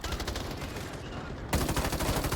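Rapid gunfire bursts from the online shooter Battle Teams 2, a dense crackle of automatic shots that jumps louder halfway through, continuous with no talk.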